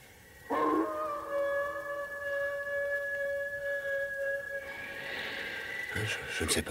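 A dog lets out one long, eerie howl in a radio drama, a steady sustained cry holding for several seconds before breaking off into noisy clatter at the end.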